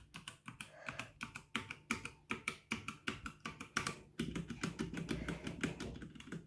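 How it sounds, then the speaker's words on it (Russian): Steady typing on a quiet mechanical keyboard during a keyboard sound test, a rapid run of soft, close clicks in an even rhythm that grows slightly denser toward the end, with no talking. "я даже не ожидала, что механическая клавиатура будет такой тихой"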